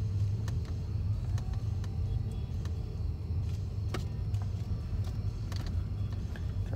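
A car circles slowly during a beginner's driving lesson, giving a low, steady engine rumble with faint clicks and ticks from inside the cabin.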